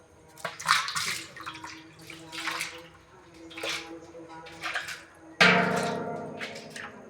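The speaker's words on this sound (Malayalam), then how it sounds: "വെള്ളം എല്ലാം പോകുന്നുണ്ട്" Water pouring and splashing out of a guppy fish tank in uneven gurgling bursts, then a louder steady gush near the end.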